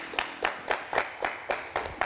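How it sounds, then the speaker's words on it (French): Audience applause for a comedian at an Ivorian comedy show, heard as a brief run of evenly spaced claps about four per second, moderately loud and free of talk. "Applaudissez pour lui."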